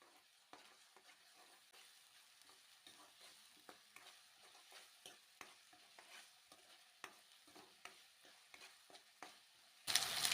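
Ginger garlic paste, two spoonfuls, frying in oil with already fried onions in a pan while making egg curry, with a steady faint sizzle and repeated scrapes and taps of stirring, plus a louder burst of sizzling at the end.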